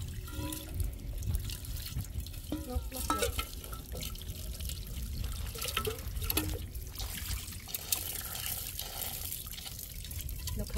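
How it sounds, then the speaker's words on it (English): Running tap water splashes steadily as a blackened item is rinsed clean beneath it at a campsite, close and continuous, with a brief spoken word partway through. "need to go and wash it with clean water."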